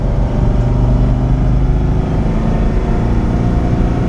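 A salt-water-flooded supercharged Ford Mustang drives on the road, its loud, steady engine drone and road roar filling the cabin without a break.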